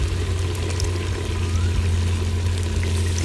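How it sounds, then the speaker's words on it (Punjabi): Two ladles of cooking oil poured into a pot of desi rooster chicken karahi, a continuous liquid pour and sizzle over steady kitchen background hum, close and moderately loud with no talking. "ਦੋ ਡੋਈਆਂ ਆਇਲ ਸ਼ਾਮਿਲ ਕੀਤਾ ਹੈ"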